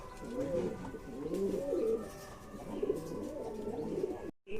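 Pigeons coo steadily in a loft, a continuous layered murmur of low rounded calls from several birds close by, with no talking.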